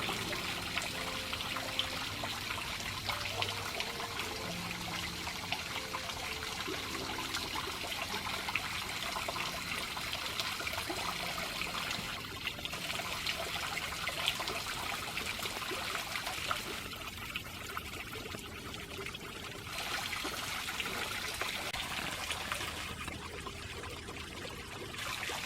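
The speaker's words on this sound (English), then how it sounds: "We haven't had a lot of rain, so there's just a little trickle of water running over it." Thin trickle of water running over a small waterfall on a woodland trail during a dry spell, a steady, soft pouring and splashing that continues without a break.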